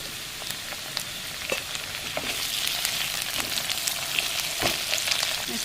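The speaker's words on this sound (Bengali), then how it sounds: "এখন এখানে চিংড়ি মাছগুলো দিয়ে দেবো এর মধ্যে।" Prawns sizzle in a pan with lightly fried onion and crushed garlic, a continuous crackling fry with scattered pops and the occasional scrape of stirring, close and moderately loud with no talk.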